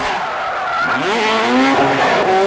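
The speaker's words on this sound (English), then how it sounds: "he puts Pamela in quite a spin on stage 3" A rally car spins on a stage of the 2006 Lurgan Park Rally, its tyres squealing in rising and falling howls over a roaring engine, loud and close.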